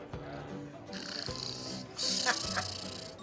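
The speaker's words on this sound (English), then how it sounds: "this is the mayor snoring." Recorded snoring of a man plays in a restaurant sound room, a few slow rasping breaths at moderate level over a steady background hum.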